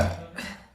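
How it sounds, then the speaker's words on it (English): A single short, loud burp from a woman, close to the microphone, fading quickly with a slight second push near the end. "I'm gonna burp."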